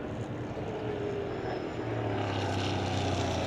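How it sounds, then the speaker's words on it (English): A EuroNASCAR race car at the Spanish NASCAR GP qualifying session lifts off the throttle, its engine settling into a steady low burble heard from a distance under a constant broadband rumble of track ambience. "I think the roar of the engine has firmly become a burble."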